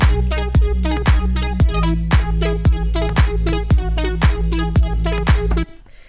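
A remade future bass drop pumps with a punchy kick on each beat, wide chords ducking rhythmically around it, loud and close before cutting off abruptly near the end.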